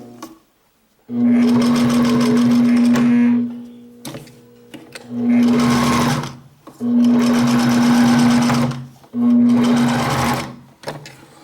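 Sewing machine stitching the seam of a lined child's dungaree, running loud and close in four steady bursts with short pauses between them.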